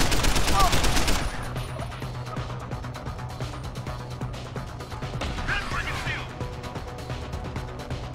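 Gunfire in the video game Deus Ex: Human Revolution: a dense, loud burst of rapid shots at the start gives way to quieter scattered pops and crackles in a busy game soundscape.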